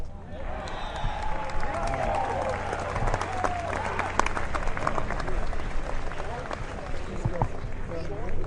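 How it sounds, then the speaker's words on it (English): Golf gallery at the Presidents Cup in San Francisco applauds after Zach Johnson's approach shot reaches the green, a spread-out outdoor crowd clapping and calling with a few whoops, heard at a moderate distance with voices mixed in. "The anticipation, the fear, the wait, and then the applause."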